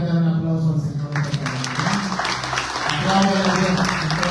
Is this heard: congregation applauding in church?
yes